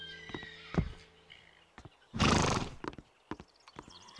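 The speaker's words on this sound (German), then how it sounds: "Los, steig auf dein Pferd." Hooves clopping in scattered steps, then a loud, close horse whinny, followed by more hoof knocks and shuffling.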